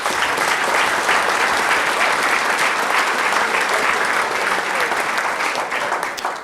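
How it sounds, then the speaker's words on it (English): Sustained applause from a crowd, dense and loud, with steady clapping continuing throughout before tapering slightly at the very end. "So big round of applause for my staff."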